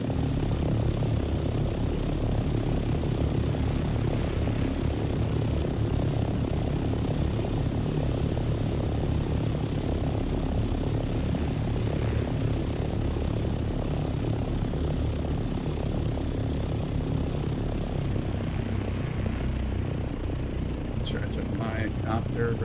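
A helicopter-style copter flies in the desert survival game Dune Awakening, producing a steady, loud engine and rotor drone that holds unbroken for the whole stretch, with a few faint clicks near the end.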